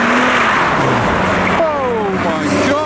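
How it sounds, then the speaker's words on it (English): BMW 6 Series drifting sideways at a tuner car meet: loud revving engine with rising and falling pitch sweeps, close by, amid crowd noise and other car sounds. "Oh, a 6 Series is getting sideways."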